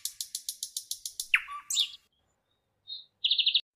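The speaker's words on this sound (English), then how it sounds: "P is for parrot." A parrot chirps in a quick series of about ten evenly spaced calls, then gives a harsher squawk and a few shorter bursts, close and clear against silence.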